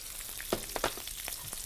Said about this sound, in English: So this you want that sizzle when you put them in there.